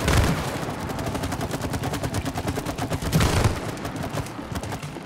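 Rapid, loud automatic gunfire rattles through a level of the video game It Takes Two, a steady stream of closely spaced shots that swells midway and runs on without talk.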